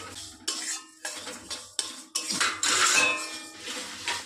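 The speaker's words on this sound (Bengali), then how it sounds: "মুগের ডালটা শুকনো খোলায় একটু নাড়াচাড়া করে নেব" Mung dal being stirred in a dry pan for khichuri, a spoon scraping and rattling the dry lentils in repeated close bursts with brief pauses between strokes.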